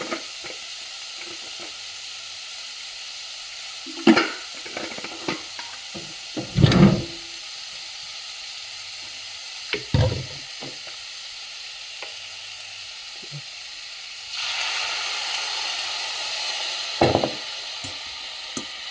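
A quiet, steady bubbling simmer of sardine curry in a pan after water is added, broken by occasional clanks and scrapes of a utensil, with a louder hissing swell near the end.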